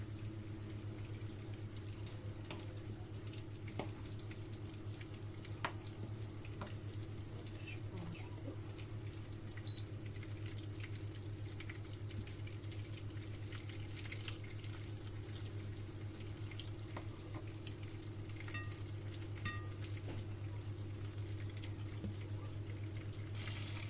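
Sardines fry in a pan with a steady, low sizzle and hum holding constant for about twenty seconds, with occasional faint clicks and no talking.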